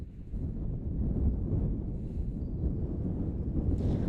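Steady low wind rumbles across an open soccer field during a boys' high school match, a continuous buffeting roar battering the microphone throughout with no talk over it.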